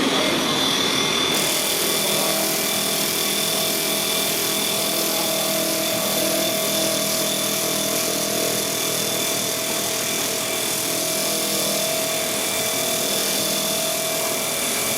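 A power sander runs continuously on inflatable RIB boat fabric of PU or Hypalon, sanding off the old coating before gluing: a loud steady whirring drone close by for the whole stretch.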